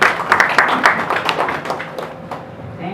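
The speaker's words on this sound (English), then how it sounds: "Another round of applause for you." An audience claps for a guest during a courtesy visit by a senior executive course group, a brief burst of clapping in a room that thins out toward the end.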